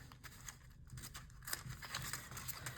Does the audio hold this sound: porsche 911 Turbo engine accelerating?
no